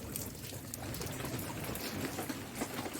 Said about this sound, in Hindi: बारिश फिर से तेज़ हो रही थी